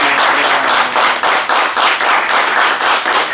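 A church congregation claps hard together in a rapid, steady rhythm, loud and close, filling the room with continuous applause.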